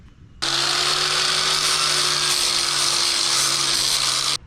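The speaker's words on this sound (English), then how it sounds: "we're just going to use our grinder with an 80 grit sanding flat right there." An angle grinder fitted with an 80 grit sanding flap disc strips old paint and grease from a metal trailer, running in one loud, continuous, high-pitched whine with a steady hum for about four seconds before stopping, with no talking.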